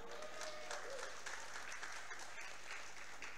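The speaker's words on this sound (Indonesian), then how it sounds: "beri sorak-sorai bagi Allah kita" Church congregation at a Sunday worship service cheering and applauding, a steady wash of clapping and voices that holds at an even level throughout, with no single voice standing out.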